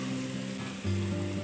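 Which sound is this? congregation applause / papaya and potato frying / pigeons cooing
papaya and potato frying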